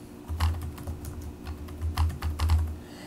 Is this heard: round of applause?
no